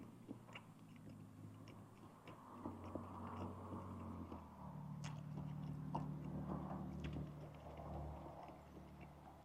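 A Reuben sandwich with corned beef and Swiss cheese is bitten into and chewed at a cafe, soft close mouth crunches and wet chewing over a low hum of room noise, with no talking.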